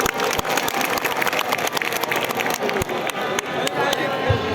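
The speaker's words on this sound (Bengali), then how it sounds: "আপনারা করতালি দিয়ে বরণ করুন।" Crowd at a political rally applauding a large arriving procession, with dense continuous clapping under loud amplified speech and scattered sharp claps standing out.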